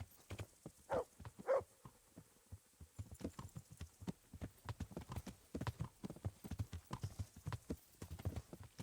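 Horse hooves clop in an uneven, continuous rhythm at close range in the video game Kingdom Come Deliverance, with a faint hum underneath and no talking.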